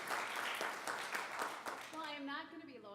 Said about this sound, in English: Let's give Lois a round of applause